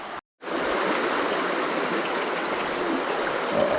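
A deep river in the Lake District rushes in a constant broadband wash close by, briefly cut to silence near the start before resuming steadily.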